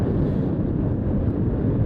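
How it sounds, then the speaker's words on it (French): Strong wind near a glacier in Iceland buffets the microphone in a continuous loud, rough roar throughout, with no voices. "il y a du vent fort dans ma gueule, je sais même pas si vous m'entendez bien ou pas"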